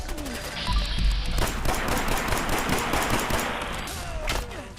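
Dense, rapid gunfire fills a Fallout 4 VR combat scene, continuous overlapping shots and impacts at steady loudness for several seconds.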